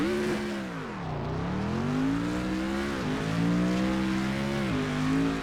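A 2017 Panoz Avezzano GT4 race car in the Assetto Corsa racing game, its engine droning loudly as it revs up and down through gear changes, with no break in the sound.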